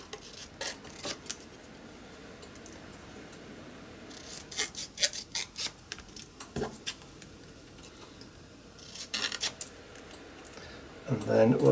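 Paper being cut down for a journal page, bursts of scissor snips and rustling paper in several short clusters, close, with a person talking at times.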